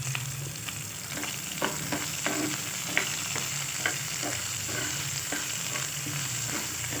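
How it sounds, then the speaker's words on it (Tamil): Sliced onions frying to golden brown with a little rock salt for onion chutney, a steady close sizzle broken by soft scraping strokes of a spoon stirring the pan, with no talking. "வெங்காயமும் நல்லா கோல்டன் ப்ரௌனாக வறுபட்டு வரணும். இது கூடவே கொஞ்சமாக கல்லுப்பு சேர்த்து நல்லா வறுத்து விட்டுறலாம்."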